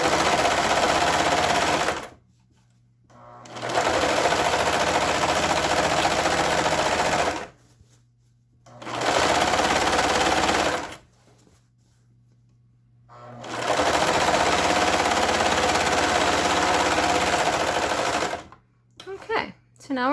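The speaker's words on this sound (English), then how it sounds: "The bias tape has to be put on with the regular sewing machine," A regular sewing machine stitching bias tape and handles onto a fabric grocery bag, loud rapid whirring runs of stitching broken by three short pauses, ending with brief handling sounds.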